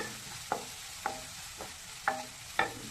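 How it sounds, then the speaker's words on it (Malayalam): Tomato frying in oil for egg burji is stirred in a pan, giving five evenly spaced scraping strokes about half a second apart over a steady low sizzle, close and clear with no talking. "ഇട്ട് നന്നായി ഇളക്കി കൊടുക്കുക"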